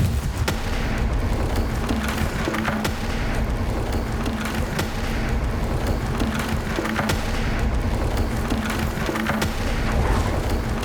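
A Bombarda blasting spell smashing wood in Hogwarts Legacy: a steady, dense crackle of splintering and clattering debris with scattered sharp cracks and thuds, loud throughout with a low rumbling bed underneath.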